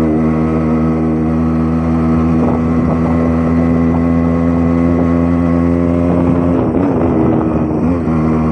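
Royal Enfield Bullet 500 motorcycle riding along a road near Kotagiri, its engine producing a steady loud harmonic drone throughout with wind buffeting, no voices.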